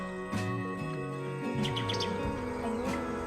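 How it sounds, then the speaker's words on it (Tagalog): A bird on a Philippine vegetable farm calls back in reply with a few short, bright chirps over a steady tonal background. No voices are heard. "Ayun, sumagot yung ibon."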